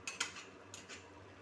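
A ladle scrapes and clinks against a metal pot while biryani with yogurt is stirred, a few sharp metallic knocks close up, then quiet.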